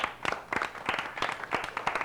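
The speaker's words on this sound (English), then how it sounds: "Give yourselves a round of applause." A small audience at a trivia competition gives a short, brisk burst of clapping. The individual claps are distinct and land close together, and no voices are heard over them.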